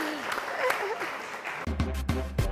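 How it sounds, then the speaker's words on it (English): A studio audience claps on a talk show in a broadband patter for about a second and a half. Then a voice speaks over it and the clapping carries on underneath. "Clap for me."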